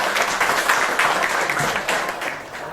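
A small classroom group claps after a high school chemistry presentation on acid-base indicators made from plant extracts, steady scattered applause lasting a few seconds, close and moderately loud with no talk over it.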